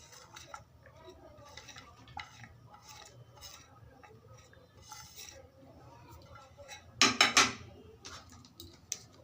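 Cut potatoes and chopped onions are tipped into a pot and stirred, giving soft scrapes and clinks and one loud clatter near the end, under a quiet voice talking.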